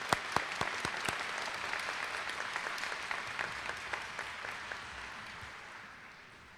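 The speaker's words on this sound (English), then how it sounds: "You deserve a round of applause for your achievement" Audience applause at a 2017 GED graduation ceremony, with crisp individual claps standing out early over a broad wash of clapping that gradually fades toward the end.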